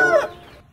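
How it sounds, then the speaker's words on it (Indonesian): A single short chicken cluck, close and fairly clear, fading quickly into quiet. "ternyata ini si ayam."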